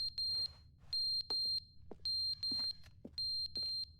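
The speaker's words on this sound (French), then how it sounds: "Au secours, elle est où l'alarme?" An alarm in The Stanley Parable sounds in repeated shrill beeps, bursts of about half a second separated by short gaps, with faint thumps between them.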